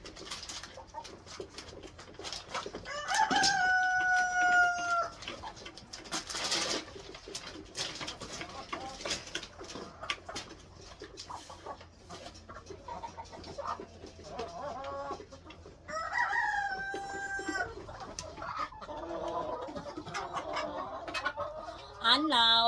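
Backyard chickens and a rooster at feeding time, with repeated crowing, clucking and cooing from nearby birds, rising and falling over steady background noise and occasional voices.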